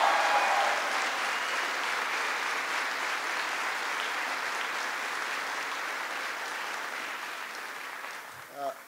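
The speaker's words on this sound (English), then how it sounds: "Kathleen Stevens and General Skip Sharp, please give them a big round of applause." An audience at a Veterans Day event in South Korea applauds in sustained, dense clapping. The applause is steady and fills the whole stretch, fading slightly toward the end, where a voice briefly begins over it.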